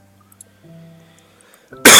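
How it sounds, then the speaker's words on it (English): A single loud, harsh cough bursts out close to the microphone at the very end, after a quiet stretch with only faint low background hum. "Got a bit of a cough."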